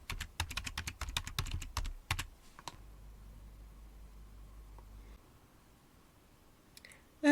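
Fingers tap out login details on a computer keyboard in a quick burst of close, crisp keystrokes for a couple of seconds, then it goes quiet apart from a faint low hum.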